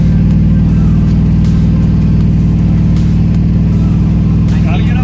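Loud, steady vehicle engine labouring up a hill, a constant low drone filling the whole stretch, with talk faintly mixed in beneath it.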